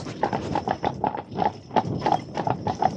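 A team of Percheron draft mares trots along, hooves clip-clopping in a brisk, even, close rhythm with no talk over it.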